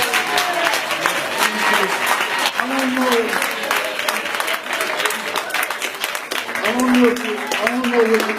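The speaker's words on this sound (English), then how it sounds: "I don't know what you're clapping about." An audience claps steadily and fairly loudly throughout, a dense patter of many hands, with a voice talking over it at times.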